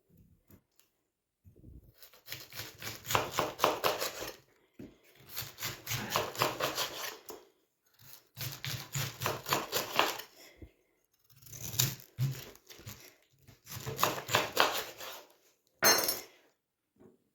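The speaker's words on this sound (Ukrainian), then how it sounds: "нарізали капусту" Repeated rhythmic chopping of a knife slicing through cabbage, several bursts of rapid cuts separated by short pauses, close up.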